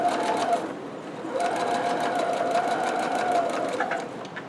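A sewing machine runs steadily, stitching a fabric locker caddy shut, its rapid mechanical rattle continuing close and unbroken with a brief pause about a second in.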